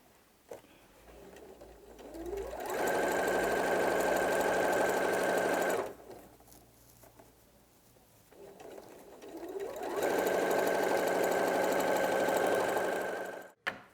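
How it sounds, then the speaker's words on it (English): A sewing machine stitches over the seams of a hessian bag in two long steady runs, each ramping up to a loud continuous whir, with a quiet pause between them and a faint clunk at the end. "sewing over the seams all the way around"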